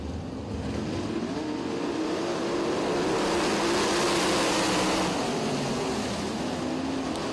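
Race cars in a heat at Lincoln Speedway roar continuously as the pack runs through the turns, a dense, steady engine drone with shifting pitch and no break.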